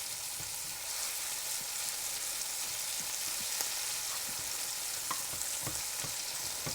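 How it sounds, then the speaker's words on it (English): Spatula scraping browned bits from the bottom of a skillet of sizzling smothered steak drippings, a constant frying hiss with faint scattered scrapes and taps, fairly quiet and steady with no talk. "Scrape those brown bits off the bottom of the skillet as best you can"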